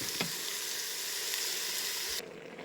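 Peppers and eggplant frying in a pan, a steady broad sizzle close by that runs unbroken before dropping abruptly quieter near the end, with no voices.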